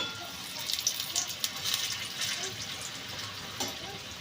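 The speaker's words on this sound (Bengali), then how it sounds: "এদিকে এই পিঠটা ভাজা হয়ে গেছে আর এই পিঠটা ভাজতে হবে" Palm fruit fritters (tal bora) frying in hot oil, a soft continuous sizzle and crackle with a few light pops close by.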